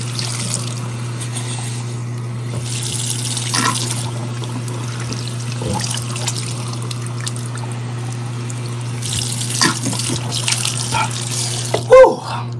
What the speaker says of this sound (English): Finally took a shower.